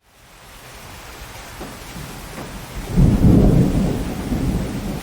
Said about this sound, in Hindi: कुछ दिन बाद गांव में कड़ी बारिश हुई